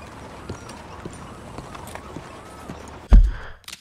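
A horse in Red Dead Redemption 2 walks with soft, steady hoof clip-clops, moderately close. A louder thump comes near the end.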